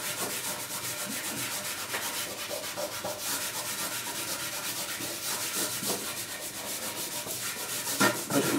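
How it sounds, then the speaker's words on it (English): Pastel being rubbed hard into paper with the fingers, a steady close scratchy rubbing that runs throughout with short strokes, with no voices. "Rubbing it well in."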